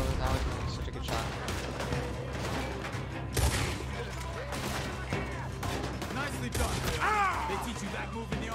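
Gunfire during a robbery shootout in Red Dead Redemption 2, with rapid repeated shots and bursts crackling over a steady rumbling backdrop while voices talk underneath.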